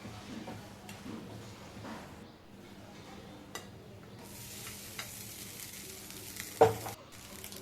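Ingredients for lemon rice fry in a pan with a low steady sizzle, marked by occasional light ticks and scrapes and one louder clank near the end.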